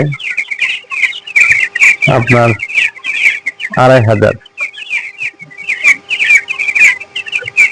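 A crowd of about 2,500 broiler chickens chirps and clucks continuously in a poultry shed, with someone briefly speaking twice over the busy flock.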